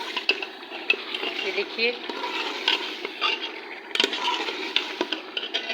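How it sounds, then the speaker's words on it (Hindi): Goat trotter meat is stirred and roasted with spices in a pot, giving steady scraping and clattering over a soft sizzle. Someone speaks briefly over the cooking. "ये देखिए इस तरीके से मैं इसकी भुनाई करूँगी अच्छे से।"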